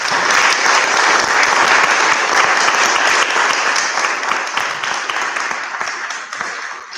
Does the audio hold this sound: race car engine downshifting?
no